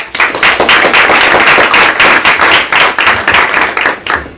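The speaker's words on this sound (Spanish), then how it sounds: "un aplauso para ella" Loud, close audience clapping welcomes a guest at a Spanish-language community gathering in Jacksonville, sharp and steady throughout with no voices.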